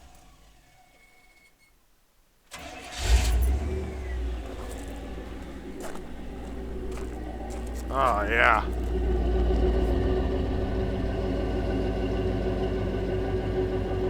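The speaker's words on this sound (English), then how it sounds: "Let's finish this thing up with this thing just idling, because I want to hear it from outside." A K5 Blazer with a custom stainless Z-pipe exhaust cranks, fires up and settles into a steady, deep rumbling idle heard from outside, with a brief spoken remark over it.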